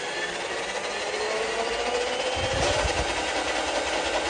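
A Ryobi 50-foot drain auger spins fast in a steady, continuous whir with a rising mechanical whine and a brief rattling surge midway, close and loud, with no voices.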